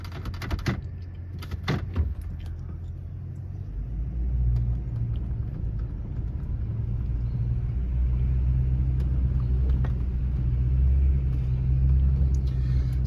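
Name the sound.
vehicle downshifting while driving up a driveway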